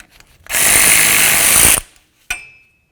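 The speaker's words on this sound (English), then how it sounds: "Now let's remove our axle nut." An impact-style power tool spins off the axle nut on a 2007-2017 Ford Expedition during a 4WD hub actuator replacement. One loud, steady burst lasts just over a second, followed by a short sharp metallic clink.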